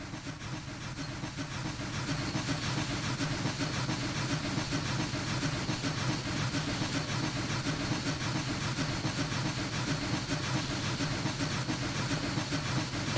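A loud 100-ton steam locomotive in Train Simulator Classic runs continuously, a steady rumbling chug with even mechanical rhythm and no pauses.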